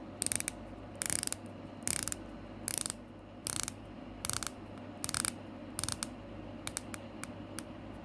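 A Citizen NB1031 Signature Grand Touring Sport watch bezel turned by hand, giving close, crisp ratcheting clicks in short bursts separated by pauses, over a faint steady background hum.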